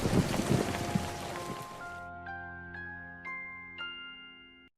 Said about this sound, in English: These are not tears. It's rain.